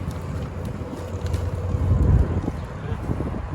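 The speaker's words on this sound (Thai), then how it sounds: "ลมเย็นมากเลยค่ะเพื่อนๆ อากาศดีมากนะคะ" Strong wind buffets the microphone outdoors, a steady rumbling roar that swells midway and then settles, with no clear talk over it.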